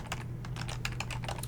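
Clicky computer keyboard being typed on in quick irregular bursts of keystrokes, close and moderately quiet over a faint low hum, no voices.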